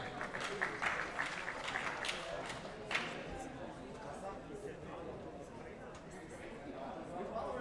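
Sustained applause from a crowd honoring deadlift medalists at a men's 74-83 kg world classic powerlifting championship ceremony, steady and full throughout, with clapping bursts and crowd murmur.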